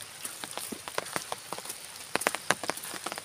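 Rain patters on a surface in a rural Mindanao setting, a soft, irregular spatter of drops with a few sharper taps, fairly faint and steady throughout.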